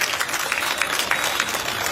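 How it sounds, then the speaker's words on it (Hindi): A crowd at an outdoor political march applauds an elderly woman of 95, a dense, steady patter of many hands clapping together at moderate distance with no talk over it. "जोरदार तालियां इनके लिए भी बजाइए।"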